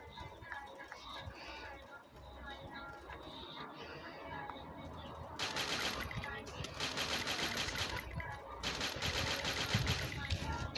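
Gunfire in the Free Fire video game crackles in dense automatic bursts, with heavier volleys in the second half over game ambience; someone talks intermittently.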